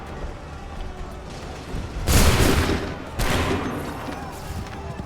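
A massed musket volley from soldiers in Assassin's Creed III erupts in two loud, crackling bursts of overlapping shots, each rolling out into a sustained rumble over a noisy battlefield.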